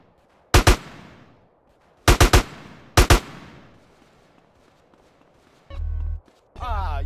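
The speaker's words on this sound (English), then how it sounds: "a gun" A gun in GTA San Andreas fires three close double or triple bursts of sharp shots, separated by quiet gaps, followed by two low rumbling game sounds near the end.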